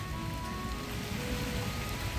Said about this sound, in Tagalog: Wala, umuulan.